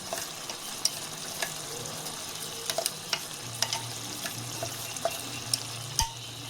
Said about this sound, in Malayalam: നമുക്ക് അരപ്പ് ചേർത്ത് നന്നായിട്ടൊന്ന് ഇളക്കി യോജിപ്പിച്ച് കൊടുക്കാം.